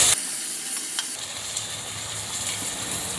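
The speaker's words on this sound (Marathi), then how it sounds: "टॉमॅटो घातल्यावर सुद्धा आपल्याला हे छान असं परतून घ्यायचं आहे" Chopped tomato sautés in a pan for a chicken masala dish, giving a soft steady sizzle with a few faint stirring scrapes after an opening clatter, no voices.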